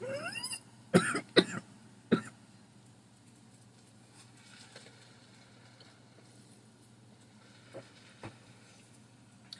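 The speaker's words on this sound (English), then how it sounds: "So sorry about my cough." Several sharp allergy coughs in quick succession near the start, then a faint hum with a few soft isolated clicks.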